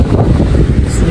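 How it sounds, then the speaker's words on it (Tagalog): Hot wind blowing outdoors, a loud close rushing buffet across the microphone with a constant low rumble throughout the brief moment. "Ang hangin na mainit."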